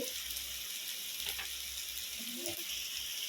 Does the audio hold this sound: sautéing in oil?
yes